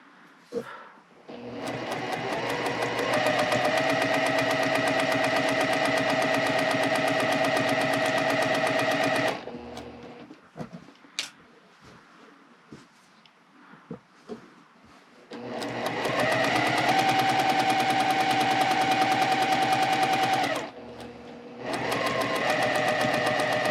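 A sewing machine stitches a Y seam along a mirror-imaged mitered quilt border in long, steady, loud bursts of rapid needle chatter, broken by quiet pauses of fabric handling and small clicks.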